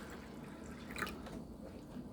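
White vinegar poured from a can into a container nearby, a soft steady trickling and dripping of liquid that runs quietly and evenly throughout with a faint splash midway, no voices.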